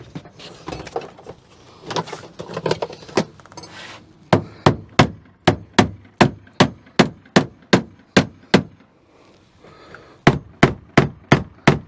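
Hammer blows against a Subaru Impreza GC8 tail light to knock it loose: a scuffle of handling first, then a long run of sharp, evenly spaced metallic strikes, loud and close, pausing briefly before a final burst.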